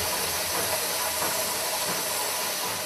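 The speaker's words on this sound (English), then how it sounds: "Did you hear the sound the machine made when it squashed the rubber nuggets into half balls?" A tennis ball factory machine squashing rubber nuggets into half balls gives a loud, continuous steam-like hiss over a mechanical rumble, steady throughout with no voices.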